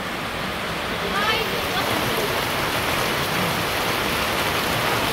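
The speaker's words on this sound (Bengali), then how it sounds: "আজকে মোটামুটি বৃষ্টি ভালো হইলো" Steady rain falling in a village setting, a dense, even hiss that stays constant throughout, close and fairly loud.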